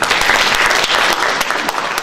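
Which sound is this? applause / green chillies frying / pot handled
applause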